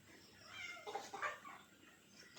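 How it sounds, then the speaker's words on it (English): A cat underfoot around chicken pens on a farm gives one brief, faint meow midway through, over quiet background noise. "Oh, the old cat's under my feet."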